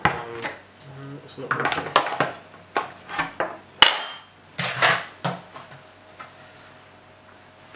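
A knife knocks and scrapes against a plastic fermenter tap plug in a series of sharp, irregular clicks and taps while trying to unscrew it, with someone speaking briefly between them.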